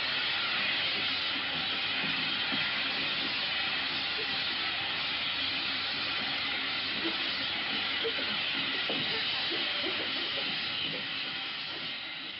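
A continuous, loud steam hiss fills a steam room aboard a 1943 wartime setting, holding evenly for the whole stretch with only faint background rumble.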